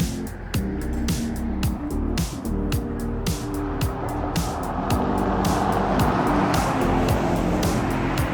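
Car driving along a scenic highway near Miami, Arizona, a steady road and engine hum with rhythmic tire thumps over pavement joints and wind noise, continuous and close inside the vehicle.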